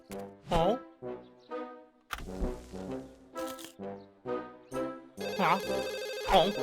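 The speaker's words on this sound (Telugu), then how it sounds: "ఈ సమయంలో ఎవరు నాకు కాల్ చేసేది?" A cartoon phone rings with an incoming call, a melodic electronic ringtone repeating in short tonal bursts about every half second, loud and close, with no talking over it.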